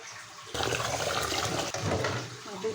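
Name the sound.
washing rice in water for pulao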